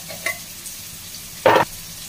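Powdered spices such as turmeric go into a hot pan for kadhi. A faint steady sizzle is broken by a brief, louder scraping stir near the end, heard up close with no voices.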